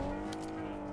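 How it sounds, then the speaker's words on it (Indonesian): A car engine in the mobile game PUBG Mobile drones steadily at a constant pitch throughout, loud and sustained, with brief faint voice chatter over it. "Ini suara mobil."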